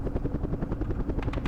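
Helicopter in the war strategy game Campaign Series Middle East, a steady close rotor chop with rapid rhythmic blade pulses and a droning engine, loud and alone.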